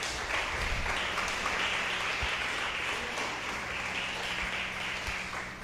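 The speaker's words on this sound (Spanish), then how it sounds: "Den un aplauso a Dios" A church congregation applauds during a sermon, a dense, steady clapping from many hands filling the room at moderate volume, with no speech over it.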